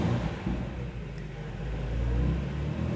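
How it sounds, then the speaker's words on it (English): A 2019 BMW M5 Competition engine fires up and settles into a low, steady rumbling idle heard close by, with a slight swell in the engine note partway through. "I'm just going to fire the car into life"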